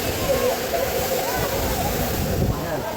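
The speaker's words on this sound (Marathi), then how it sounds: "पाणी बघ असं वरून धपाधप करते" Water pours down a waterfall at Harishchandragad fort in the rain, a loud, steady rushing roar with a voice talking over it.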